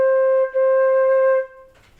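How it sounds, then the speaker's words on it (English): Two flute notes on C, one after another with a brief dip between them, clear and close, each held steadily before fading out, with no talking. "Let's play the first two C's."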